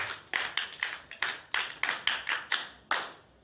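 A small group of children claps in a children's church, about a dozen quick, sharp claps arriving in an uneven burst and then stopping, fairly close and alone.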